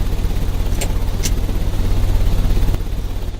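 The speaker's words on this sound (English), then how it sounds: "The ventilation system is working." Ventilation fans running in a Sherlock Holmes video game: a loud, steady broadband whir and rumble fills the whole clip, with two faint high clicks early on.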